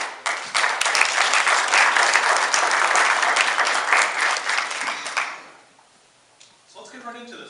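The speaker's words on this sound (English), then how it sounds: "so give him a round of applause." A mayoral debate audience applauds, a loud, full round of clapping lasting about five seconds before tapering off into a quieter room with a voice beginning to speak.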